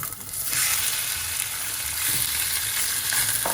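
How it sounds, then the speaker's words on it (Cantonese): Chicken pieces sizzle loudly and steadily after dropping into a hot clay pot with garlic, ginger and shallots for a salt-baked chicken pot, a dense continuous hiss with no talking. "咁我哋就放啲雞落去"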